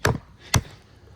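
Two sharp, separate knife chops strike wood, the first at the very start and the second about half a second later. The strikes come from a Eafengrow EF146 or Sitivien ST21 Sleipner 8mm AUS10 blade and sound close and crisp, with no talking.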